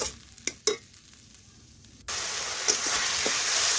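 Potatoes and carrots fried with spices in a pot are stirred with light scraping clinks, then a sudden loud, steady sizzle takes over and holds to the end.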